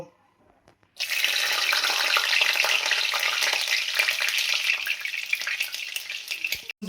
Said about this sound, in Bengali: প্রথমে কি করব, রসুনটা ভেজে নেব।